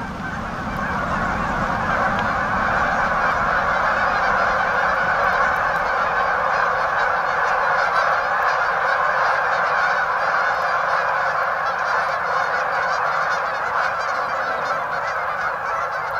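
Large flock of waterfowl, mostly geese, honking continuously at a teal pond, a dense loud chorus of overlapping calls with some quacking ducks mixed in, steady throughout with no talk.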